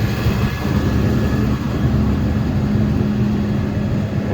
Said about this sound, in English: We'll get out of the way of that engine blower